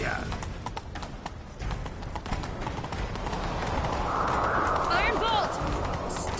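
Horse hooves clip-clop at a gallop in The Witcher 3, a steady rapid beat running throughout, mixed with game music and characters talking over it.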